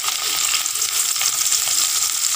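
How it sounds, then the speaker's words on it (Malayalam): Jackfruit fibre (chakiri) frying in hot oil as a snack, a steady close hiss and sizzle throughout with no talking. "ഇനി ഞാൻ ഈ സാധനം വറുക്കാൻ പോവാണ്."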